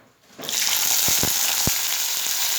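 Onion and garlic drop into hot oil and burst into a loud, continuous sizzle close by, with a few brief knocks early on. No one speaks over it.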